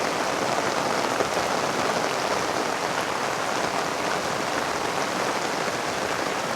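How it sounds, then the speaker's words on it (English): Steady rain falls outdoors near a riverside building site, a dense, continuous hiss of drops on surfaces that stays even and close throughout, with no voices. "Rain, rain, rain."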